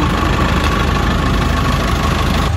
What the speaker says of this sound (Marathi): बस भी स्टार्ट हो रही है अभी